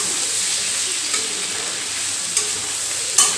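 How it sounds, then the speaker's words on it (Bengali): Malabar spinach vegetables stir-fry in a pan, a loud close sizzling hiss broken by a few sharp spatters and stirring clatters. "পুঁই শাকের সবজিগুলো ভাজা ভাজা হয়ে গিয়েছে"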